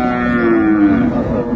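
A dairy cow at the Ambari cattle market in Dinajpur gives one long, loud, drawn-out moo close by, filling the moment with no talking over it.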